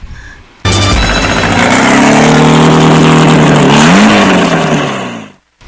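A motorcycle engine starts abruptly and runs loud and close, revving with rising and falling pitch for several seconds before cutting off suddenly.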